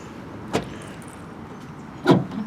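The trunk of a 2018 Chevrolet Prisma LTZ sedan is opened, giving two short mechanical clunks about a second and a half apart, the second louder, over quiet background hiss.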